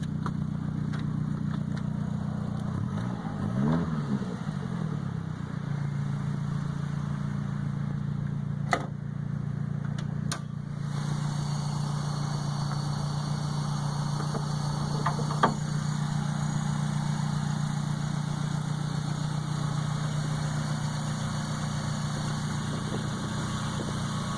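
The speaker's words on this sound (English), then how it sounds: "I'll let you hear the motor, start that" A used car with a loud aftermarket exhaust, about 49,000 miles on it, idles with a steady low rumble close to the mic, after what looks like a start at around four seconds.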